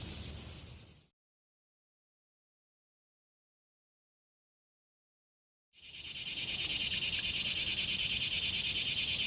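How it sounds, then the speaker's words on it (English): Cicadas drone in summer fields along a morning walk toward a pond, a loud continuous buzzing that cuts out into near silence and then swells back steadily and strongly. "If you listen to this, you can hear the cicadas."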